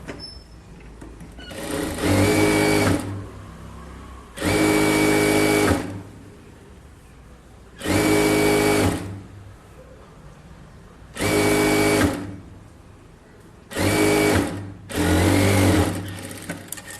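Sewing machine stitching a blouse in five loud whirring bursts of about one to two seconds each, separated by short quiet pauses, close and alone without talk.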